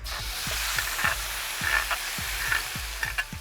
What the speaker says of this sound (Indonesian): Tumis bumbunya jangan lama-lama yuk. Cukup hingga aromanya keluar.